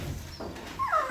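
A puppy at an adoption shelter gives brief whimpers and yips, with a high whine rising near the end of a short moment, set against room noise.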